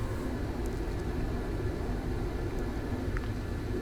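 A jet aircraft takes off from an aircraft carrier in Arma 3, a steady loud roar of engine noise filling the whole stretch with no break.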